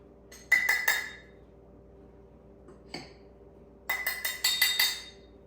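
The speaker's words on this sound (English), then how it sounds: "Give this a stir." A spoon stirs marble cake batter in a bowl, giving two bursts of quick, bright clinks against the bowl. A short quiet stretch with one faint tap separates them.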